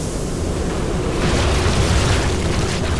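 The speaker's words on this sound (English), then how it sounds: "Release the gas." Gas released in StarCraft II makes a loud, continuous whooshing roar that swells slightly partway through and carries no voices.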